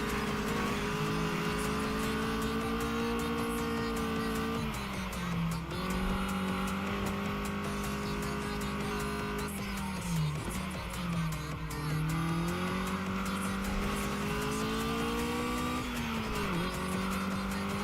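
Race car engine in the mountain pass racing game ASUKA x Redline Reverie, loud and continuous, its steady high drone dipping and climbing again at several gear changes or corners, with tire squeal mixed in.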